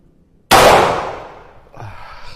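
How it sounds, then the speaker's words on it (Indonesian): A single sharp gunshot cracks out at an outdoor shooting practice, loud and close, its echo decaying over about a second before faint background noise returns. "Mudah-mudahan nih peluru terakhir."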